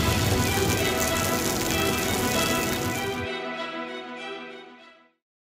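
Cartoon rain and wind storm, a dense steady hiss of heavy rain that cuts off abruptly, leaving a ringing tone that fades out over the last two seconds.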